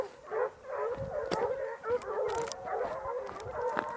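Ariégeois hunting hounds bay on a January hare hunt in woodland in the Drôme Provençale, a steady chorus of overlapping howling cries carrying from a distance with no pause.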